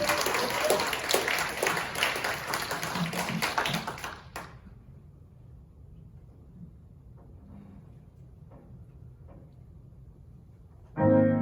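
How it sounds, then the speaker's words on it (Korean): A church congregation at a Korean pastors' choir concert claps in welcome, a dense burst of applause that stops abruptly, leaving quiet room tone with a few scattered taps. "우리 다시 한번 뜨거운 박수로 환영해 주시기 바랍니다."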